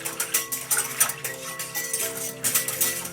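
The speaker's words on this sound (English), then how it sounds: "I'm going to add 1 package of yeast. Just stir that in." A spoon stirs sugar and yeast into water in a bowl, giving quick light clinks and swishes in an uneven rhythm, close and moderately quiet, with no one speaking.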